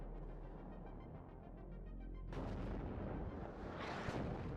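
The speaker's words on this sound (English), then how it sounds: "Constant artillery fire coming in on this point down here." Artillery fire in WARNO lands as a low continuous rumble of distant impacts, swelling into a louder burst of crashing booms partway through and a further flare of explosive noise near the end; no talking.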